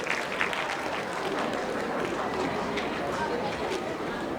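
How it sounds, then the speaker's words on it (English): High school students clapping for themselves at a Black History Month celebration, a dense roomful of applause mixed with crowd chatter and movement, fairly distant. "Clap it up for yourself and you can have a seat."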